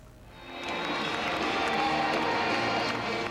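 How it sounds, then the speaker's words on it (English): A sellout basketball crowd at the Thomas & Mack arena erupts for coach Jerry Tarkanian walking onto the floor at his final game, swelling quickly into a loud, sustained roar of cheering and clapping. "The crowd went crazy as Jerry Tarkanian walked onto the arena floor"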